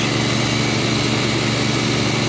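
A FilterMax centrifuge cleaning waste vegetable oil runs with a loud, steady, broadband mechanical whine and roar, unbroken throughout.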